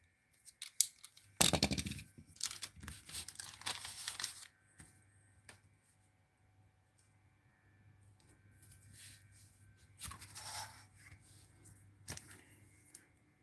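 Scissors trimming excess paper from a manila envelope or paper bag craft, with sharp close snips in separate bursts, quiet gaps, and paper rustling between cuts.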